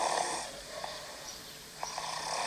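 Snoring plays back from a phone voice memo as slow, rasping breaths with a couple of faint snorts, muffled and somewhat distant under a noisy hiss.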